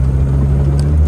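Car engine idling and running steadily while the gearbox is shifted through first to sixth gear, a constant low rumble with no clear revving, close by and with no talk.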